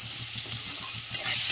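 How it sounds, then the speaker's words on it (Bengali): Beans and carrots fry lightly in a pan, a short burst of bright steady sizzling with rhythmic spatula scrapes pulsing underneath, near and clear without any talking. "আর এখানে দিয়ে দিচ্ছি বিনস, গাজর আর বিনস দিয়ে দিচ্ছি, দিয়ে এটা সবজিটা হালকা করে ভেজে নেবো।"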